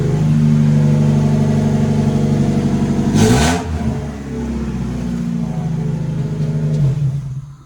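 A Maruti Zen hot hatch with a roughly 100 hp engine runs loudly and steadily up close, with a sharp burst of revving midway before it settles back to a rumbling idle; no one speaks.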